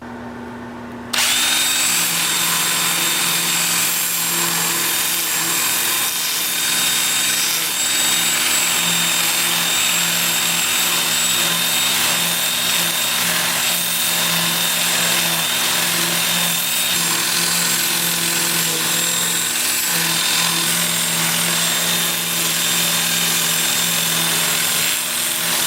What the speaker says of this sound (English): with the lathe spinning in reverse